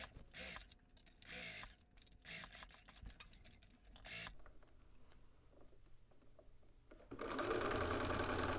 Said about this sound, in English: then we're going to pivot and stitch all the way around the neck edge